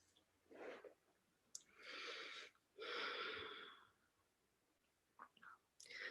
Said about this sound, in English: So the right nostril, breathing completely through the right nostril, which means the left hand is covering the left nostril.